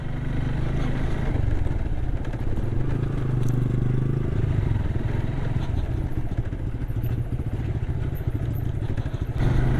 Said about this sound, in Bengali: এরকম পাহাড়ের কোল ঘেঁষে আমরা বাইক চালাচ্ছি